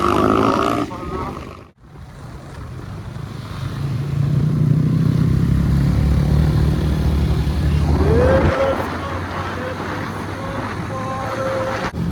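A motorcycle riding a rough hill road, its engine droning loud and near, rising and falling as it labours, with a brief drop before climbing back to a steady growl.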